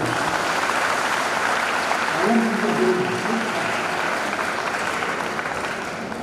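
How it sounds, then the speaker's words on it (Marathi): Audience at a school event hall claps loudly after a song, a dense burst of applause swelling around the middle and easing toward the end, with a few faint voices underneath. "एकदा जोरदार टाळ्यांचा गजर"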